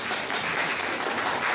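A small audience at a Taichung self-introduction meetup gives a steady, dense burst of applause, continuous and fairly close with no voices over it.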